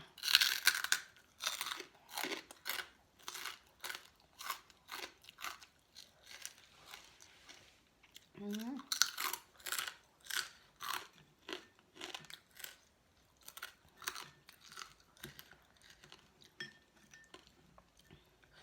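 Close, crisp crunching and chewing of pounded cucumber salad with rice noodles, bite after bite in an uneven rhythm over about eighteen seconds, with faint clinks of utensils and no talking.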